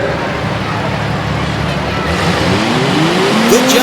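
Tough trucks launching off the start at a Harrisburg, PA off-road racing event, engines roaring loudly and steadily with rising revs, crowd and arena noise beneath.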